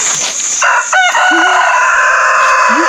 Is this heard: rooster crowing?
yes